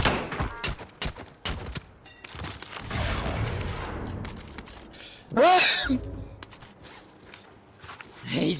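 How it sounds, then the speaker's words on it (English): Gunfire in Call of Duty: Modern Warfare comes as sharp bursts of shots early on, followed by scattered game effects and a brief voice-like cry, all fairly close and moderately loud. "He's shooting at me"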